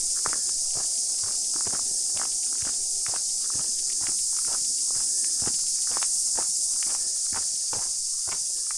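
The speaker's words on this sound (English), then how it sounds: "I don't know if you can hear the cicadas, quite noisy out here." Cicadas drone loud and constant in a New Zealand forest on the Upper Nihotupu Track near Auckland, a dense high buzz throughout, with scattered footsteps or clicks ticking underneath.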